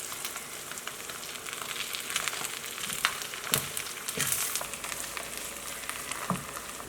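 Jollof rice being stirred in a hot pot, with steady sizzling and frying crackle and occasional scraping strokes of the spoon through the grains, moderately close.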